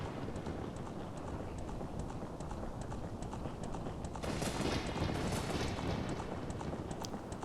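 Horse hooves clip-clopping in Ocarina of Time, a steady rapid run of hoofbeats that carries on throughout over a dense rumbling background, growing slightly brighter and louder toward the end.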